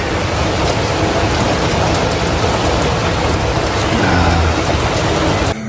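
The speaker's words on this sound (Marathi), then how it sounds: "बाहेर आहे पाऊस चालू" Continuous rain pours down outdoors, a broad steady wash of drops with no voices.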